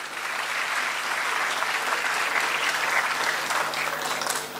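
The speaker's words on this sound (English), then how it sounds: "A huge round of applause for Sir" Sustained applause from a conference audience at an international conference on intelligent and sustainable innovation in India, honoring Mahesh Dabak; a dense, steady wash of many hands clapping at close-to-moderate distance, with no voices on top.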